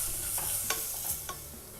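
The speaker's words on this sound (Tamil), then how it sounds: "இதை வந்து லைட்டாக வதக்கிடலாம்." Stirring and sizzling in a hot pan while sautéing for beetroot pulao, with a few sharp scrape clicks of a utensil over a steady frying hiss.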